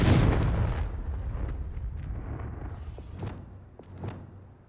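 A Confringo blasting spell in Hogwarts Legacy goes off with a loud, sudden explosive boom that decays into a long rumbling tail, followed by a few softer thuds.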